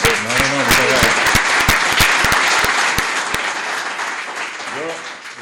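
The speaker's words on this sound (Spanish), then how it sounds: "vamos a darle primero un aplauso, por favor" An audience at an investment talk breaks into dense, loud applause that gradually thins out, while a voice speaks over the clapping near the start and again at the end.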